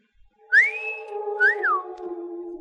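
A wolf whistle, two clear notes from a person: a rising slide, then a falling swoop, loud and alone.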